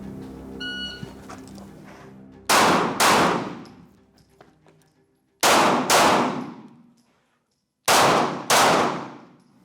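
Gunshots fired at targets in a close quarters shooting drill: three sharp pairs of loud, close shots separated by quiet pauses, following a brief electronic beep at the start.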